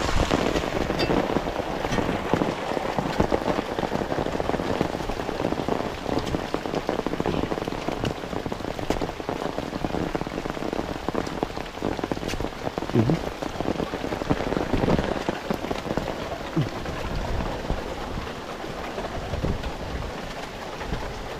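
Heavy rain pours onto a small farm hut on a tomato farm, a dense, loud, steady patter and hiss close by that continues unbroken throughout with no voices.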